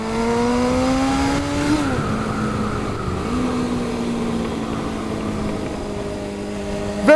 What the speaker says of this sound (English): This is a 1993 Kawasaki Zephyr 550, also known as the Kawasaki ZR 550.